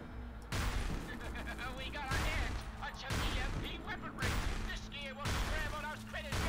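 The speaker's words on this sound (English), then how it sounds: "Let's see how this EMP shotgun looks though." EMP shotgun blasts in the video game Cryptark, several punchy shots repeating roughly every second amid dense game effects, loud and close.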